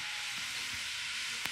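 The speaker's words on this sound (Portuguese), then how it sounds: "tá fritando aqui o nosso alho, né?" Garlic sizzles in a frying pan as it browns for beans, a steady close hiss with faint crackles throughout.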